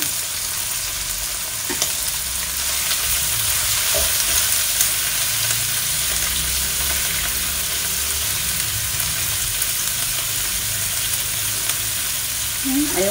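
Shrimp and garlic frying in a pan, a continuous loud sizzle with occasional stirring clinks, heard close up.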